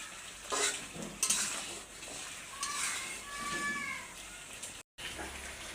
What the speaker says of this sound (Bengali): এখন হচ্ছে মাছগুলো এই মশলার মধ্যে ভালোভাবে কষিয়ে নিতে হবে